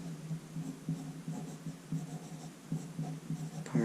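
A pencil writes a short label on paper: quick, close scratchy strokes in a steady stop-start rhythm, ending with a slightly louder scrape.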